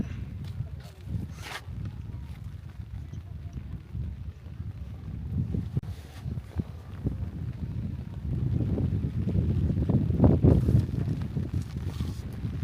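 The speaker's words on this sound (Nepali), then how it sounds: "पुरा हावा नि चलिरहेको छ" Gusty wind on a hilltop in Bhojpur, Nepal, buffets the microphone in uneven rumbling bursts, growing stronger toward the end, with no clear talk.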